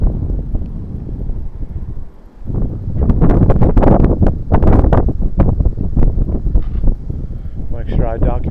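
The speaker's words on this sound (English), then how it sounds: "Now the wind's come up again a little bit." Wind gusts buffet the microphone outdoors near Chanute and Humboldt, Kansas, with loud rumbling bursts that rise and fall, and someone talks through much of it.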